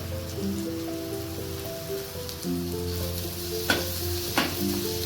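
Garlic paste sautéing and being stirred in a pan while making a cheese corn sandwich, a steady close sizzle with a few scraping knocks of the spoon.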